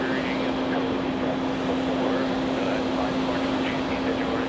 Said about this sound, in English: So that big 767, that's Delta 273 from Portugal